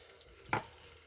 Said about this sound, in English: This is going to steam and it's going to create heat